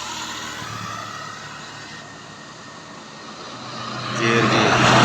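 A bus passing along a road on the route from Medan, heard as steady broadband traffic rumble that swells louder near the end as the vehicle draws close.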